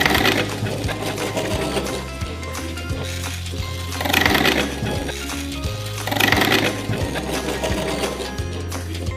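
The small battery-powered electric motor of a simple homemade toy car runs backwards with a close, buzzing whine and a rhythmic rattling pulse that swells and fades every couple of seconds.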